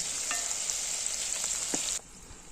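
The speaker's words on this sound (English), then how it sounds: "I am frying breadfruit on this cold pot and she's frying chicken on that pot." Steady loud sizzling of breadfruit frying in hot oil in a pot outdoors, with a couple of faint clinks, cutting off abruptly near the end.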